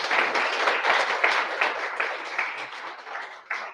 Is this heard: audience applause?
yes